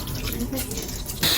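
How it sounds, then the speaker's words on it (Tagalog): Tap water runs steadily over hands being washed at a kitchen sink before cooking, a continuous close splash that swells louder near the end. "siguraduhin muna natin naghuhugas tayo ng kamay bago at pagkatapos magluto"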